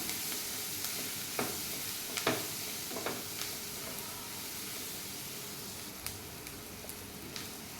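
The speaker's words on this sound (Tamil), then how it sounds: "ஆனியன் இன்னும் கொஞ்சம் நல்லா வதங்கட்டும். மசாலாவும் நல்லா வதங்கிடும்." Onion and masala sautéing in a pan for sev kachodi filling, a steady soft sizzle and hiss with occasional light scrapes of stirring throughout.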